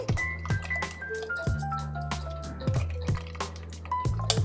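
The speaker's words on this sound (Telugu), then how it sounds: "చూడండి చింతపండు పులుసు పిండుతున్నాను" A hand squeezes and kneads tamarind pulp in water for a fish stew, making wet squelches and drips in an uneven, repeated rhythm close by.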